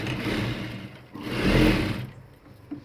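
A sewing machine stitches the hem of a ladies' pant, with a steady close whirring run that swells briefly in the middle before slowing, no talk.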